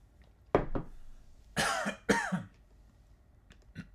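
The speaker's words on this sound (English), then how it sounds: "I was trying to not cough into the microphone" A person coughs away from the microphone during a math lecture, two short coughs followed by two harsher, longer bursts and a faint throat sound at the end, with no speech.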